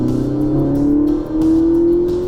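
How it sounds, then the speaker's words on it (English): A Ferrari supercar at a driving academy track accelerates hard, its engine revving with a steady rising drone, loud and close throughout with a brief dip partway. "Ease on that throttle"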